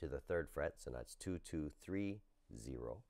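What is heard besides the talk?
None of the usual background noises is heard.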